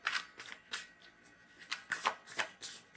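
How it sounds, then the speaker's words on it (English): Tarot cards being shuffled by hand, a series of quick riffling bursts and soft slaps, close and fairly quiet, with short pauses between. "So I'm going to shuffle the cards and see what they bring."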